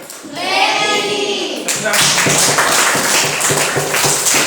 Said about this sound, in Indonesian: Tepuk tangan untuk siapa?